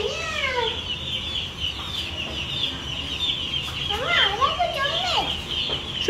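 Poultry calling at KL Bird Park in Kuala Lumpur, a steady stream of clucks and rising squawks over busy outdoor bird chatter, with people talking nearby throughout.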